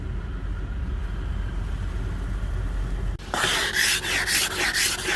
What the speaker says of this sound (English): I've tried scraping the ice off and it's so thick I can't actually get it off